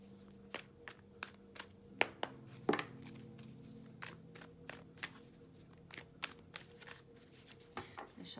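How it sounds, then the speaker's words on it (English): A deck of tarot cards is shuffled by hand in a series of soft, quiet riffling taps and slaps at an uneven rhythm, close by with no talking. "I shuffle this one again."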